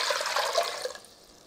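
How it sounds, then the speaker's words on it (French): Water splashes and gushes briefly into a saucepan containing sugar for about a second, then the pour stops and only a faint hiss remains. "je vais mettre de l'eau dans une casserole avec du sucre"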